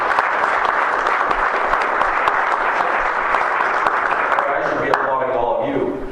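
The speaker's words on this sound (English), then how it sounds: "And thank you for applauding, sir." Sustained audience applause from a crowd honoring returning war veterans, dense steady clapping that holds loud and even throughout before thinning slightly at the end as a voice begins.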